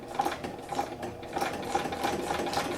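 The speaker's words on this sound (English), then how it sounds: "just use that as a guide as you're sewing" A sewing machine stitches along a guide line on a paper card, its needle running in a steady, fast mechanical chatter with regular rhythmic clicks, close and alone.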